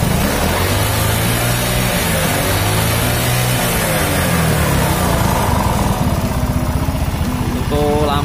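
A carbureted Yamaha Mio scooter engine, its vacuum carburetor modified to behave like a PE carburetor, revving and running loud and close with a steady buzzing drone, while someone talks over it.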